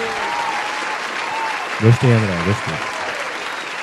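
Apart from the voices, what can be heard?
applause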